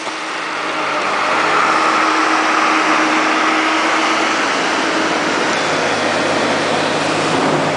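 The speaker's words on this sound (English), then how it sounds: "looks like a 3-inch pump" A 3-inch engine-driven water pump runs at a construction cofferdam, giving a steady, loud, unbroken mechanical drone with broadband hiss throughout and no talking.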